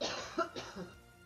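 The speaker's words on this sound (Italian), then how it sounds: "E tossisci." A single close cough, short and throaty, with a couple of smaller rasping bursts trailing after it.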